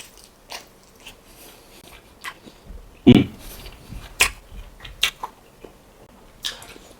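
Someone bites into cooked Chinese giant salamander meat with a gelatinous, collagen-rich skin, giving a few close, soft chewing and biting clicks spread over several seconds, with one louder crunchy bite in the middle and no talk.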